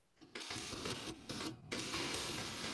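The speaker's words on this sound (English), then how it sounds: "I'm typing these on an old-timey typewriter" An old-timey typewriter types in a dense, continuous mechanical clatter, close and steady, broken by a couple of brief pauses.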